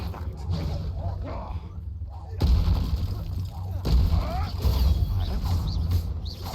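Confringo fire spell blasts in the Hogwarts Legacy video game, heavy booming bursts that hit abruptly and keep rumbling over a constant layer of game sound effects, with a voice speaking now and then underneath.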